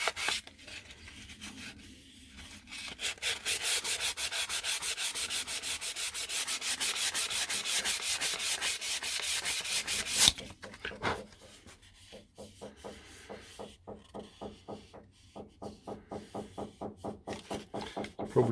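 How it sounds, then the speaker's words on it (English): Sanding a plastic car door mirror cover by hand: steady, loud back-and-forth rubbing strokes for about ten seconds, then softer, quicker rhythmic strokes close to the mic, with no talking. "now that we've actually gone through to the plastic, so I probably don't want to sand too much more there"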